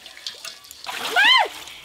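Live snakehead fish thrash in a pot of water, giving a brief burst of close, wet splashing with a short, high, voice-like squeal near the end.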